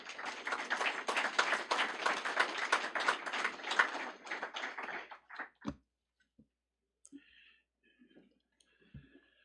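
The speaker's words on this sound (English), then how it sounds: "So let's give Trenton a round of applause" A round of applause at a National CTE Letter of Intent Signing Day at TCAT-Pulaski: dense, crisp clapping for about five seconds that thins into a few scattered claps and then quiet.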